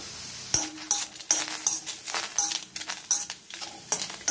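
Tomatoes and cumin are stirred in a pan over a low flame with no oil, making a steady run of clinking, scraping utensil strokes in an uneven rhythm, close and fairly loud.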